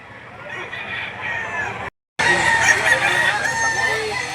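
Several roosters crow loudly at close range at a poultry market in Lipa City, Batangas, overlapping one another, with a short silent gap partway through.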